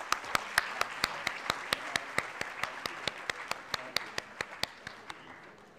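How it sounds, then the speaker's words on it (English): Audience applause at a sustainability summit during an agreement signing, a dense bed of clapping crossed by sharp, evenly spaced loud claps in a steady rhythm, likely from one person clapping close by. "Can we have a loud round of applause"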